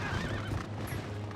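Horse neighing with clip-clopping hooves in the video game Zelda: Twilight Princess, a loud close whinny over steady hoofbeats for a moment.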